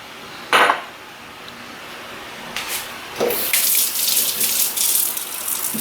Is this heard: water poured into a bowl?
yes